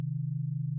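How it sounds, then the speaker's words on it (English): The init preset of the Retrologue synth in Cubase plays a single steady low sine tone, pure and smooth, holding at an even level for under a second with no other sound. "it gives us these weird sine waves now instead of being set to a saw wave"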